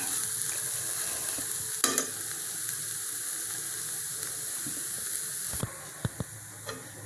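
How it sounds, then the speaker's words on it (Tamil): Mango sammanthi podi dry-roasting in a pan gives a faint, steady hiss throughout, with a few scattered scrapes and taps of a stirring spoon, mostly toward the end. "ஆனால் அது இப்படி கையை விடாமல் கிளறணுங்க"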